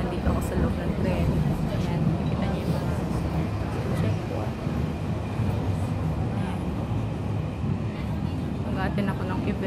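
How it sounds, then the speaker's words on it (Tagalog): A local train running between Taipei and Hsinchu in Taiwan gives a steady rumbling, rattling interior drone throughout, with a voice talking over it. "Ayan guys, kaya nandito ako sa local train."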